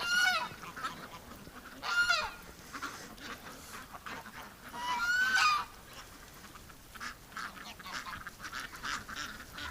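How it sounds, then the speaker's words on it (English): Ducks quack and honk in a few loud bursts over a steady hiss like running water, with quieter calls in between. "Running water and ducks."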